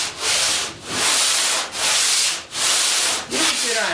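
A plastering float rubbed over putty in cross strokes, giving steady broad scraping passes in a rhythmic back-and-forth pattern with brief pauses between strokes, close and fairly loud, with no talking.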